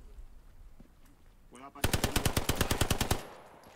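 Machine gun fire in Hell Let Loose during a WWII Remagen chapel battle: a quiet opening with a faint shot, then a loud, close burst of about a dozen evenly spaced rounds ending abruptly.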